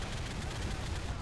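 Dense, loud burst of gunfire from a sniper rifle in Call of Duty Modern Warfare 3, during the Iron Lady mission, filling the short moment with a sharp, booming crack and echo.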